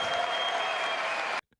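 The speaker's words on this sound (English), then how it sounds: "This whole fucking thing is just going to be clapping." Members of the United States Congress applaud during a presidential address, a dense, steady wash of clapping that cuts off abruptly near the end.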